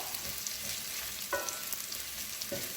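A prawn chilli fry sizzles in a pan while being stirred, a steady frying hiss with occasional spoon clinks and scrapes up close, no talking.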